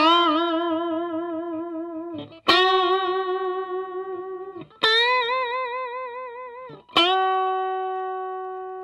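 Electric guitar with Liquid Pickups, notes bent and held with long, ringing sustain, four picked notes each wavering in pitch as they slowly fade, effects-laden and alone.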